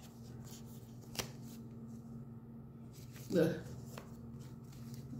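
Cards are shuffled in one quick riffle, with a brief soft tap earlier and a person's low murmur in a quiet room.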